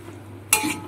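Hilsa fish head and malabar spinach mash being stirred in a pan, a brief scraping stir bursting in after a quiet moment, with soft sizzle continuing close by.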